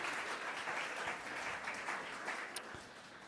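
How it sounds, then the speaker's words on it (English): An awards ceremony audience applauds in a sustained, fairly even wash of many hands clapping, heard from within the hall and tapering slightly toward the end. "So we can give them a quick round of applause now."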